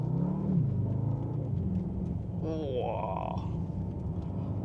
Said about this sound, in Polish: Więc odpalamy silnik